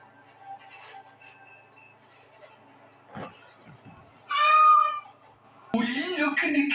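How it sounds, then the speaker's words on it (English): A cat meows in the video game Dragon Age Awakening, a short, clear mewing call near the middle of the clip, set among quieter game sounds, brief voices and a loud burst of game audio at the end. "Oh, look at the cute little kitty."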